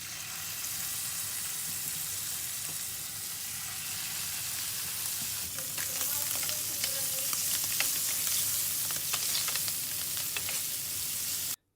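Scallops fry in hot butter in a pan, a steady close sizzle that grows busier with crackling pops and spits partway through, with no talk.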